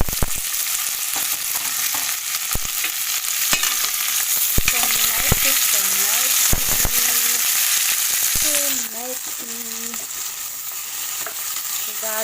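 Tomato sautéing for escabeche, a sweet and sour fish dish, giving a steady loud sizzle with sharp spatula scrapes and clicks against the pan, close up and continuous throughout.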